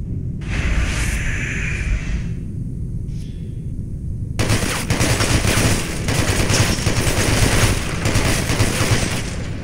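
Dense, loud automatic gunfire rattles continuously at a shooting range in the video game Hatred, with a short lull before the firing resumes even heavier, and no voices.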